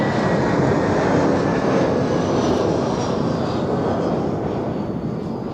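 An Airbus A321 arriving at Zurich Airport from Palma, its jet engines a loud, continuous broadband roar close by, holding steady and easing off slightly toward the end, with no voices.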